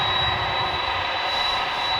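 UPS jet aircraft on its takeoff run at Dallas/Fort Worth airport at night, a steady roaring engine rumble with a high whine, heard continuously from a distance.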